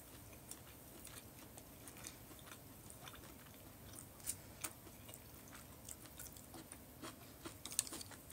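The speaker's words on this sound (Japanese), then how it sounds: "咀嚼音が聞こえたりさ" Quiet chewing of food during a meal, soft irregular crunches and clicks at close range with no speech, set against a faint steady background hiss.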